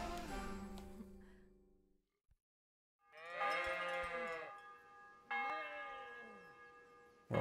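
Sheep bleat in Kingdom Come: Deliverance, two wavering calls after a quiet gap, set against a sustained bell-like ringing tone that fades out early, with no talk.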